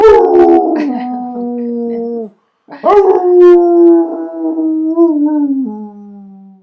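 A person imitates a wolf howl with the voice, giving two long, loud, wavering howls separated by a brief pause, the second rising and then slowly trailing off.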